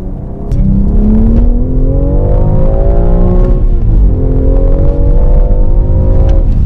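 A BMW X4 M Competition with its 3.0-litre twin-turbo engine pulls hard in M1 mode, a loud sustained rising engine drone climbing in pitch, briefly dipping at a gearshift, then climbing again, heard from inside the cabin.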